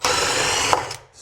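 A power drill drives a 2.5-inch screw into a stubborn wall while fastening a cabinet, giving a loud, close, continuous whir that cuts off abruptly near the end, then a faint click.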